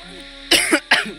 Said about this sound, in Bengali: কি হলো হঠাৎ এরকম কাশি হচ্ছে কেন?